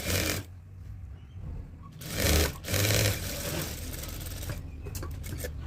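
A sewing machine stitches two pieces of fabric in a tailoring class, its motor running in steady bursts with short pauses, louder in the middle stretch and close by, with no talk over it.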